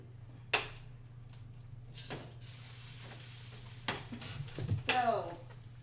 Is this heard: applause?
no